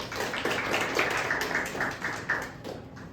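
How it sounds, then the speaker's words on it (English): A seated audience gives a round of clapping after a student's research presentation, a continuous patter of many hands with a few sharper individual claps standing out, no talking. "All right, round of applause."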